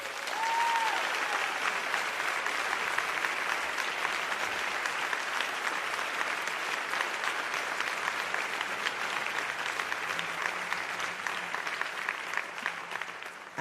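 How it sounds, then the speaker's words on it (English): A theatre audience at a live storytelling show applauds steadily for over thirteen seconds, a dense, even wash of many hands at moderate level with little variation and no talk over it. "She's an amazing, phenomenal woman who deserves another round of applause."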